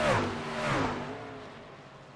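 Racing trucks at Interlagos during the Brazilian Truck GP, a brief loud engine roar that sweeps down in pitch as a truck passes close, then fades quickly.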